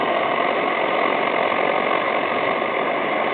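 Steady, loud broadband roar of classic pressurized stoves burning at full output, unbroken for the whole stretch with no voices.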